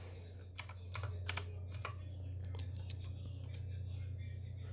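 Fingers type a router username and password on a computer keyboard, a quick run of close key clicks over a low steady electrical hum.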